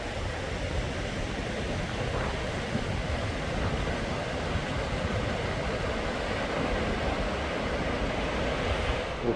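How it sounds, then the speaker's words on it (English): The Lehigh River flows through its rocky gorge in a Pennsylvania state park, a steady, even rush of water that holds at a moderate level throughout with no voices over it. "Incredible river here, incredible river."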